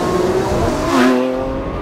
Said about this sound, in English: the incredibly characteristic sound of the V10 has always captured our imagination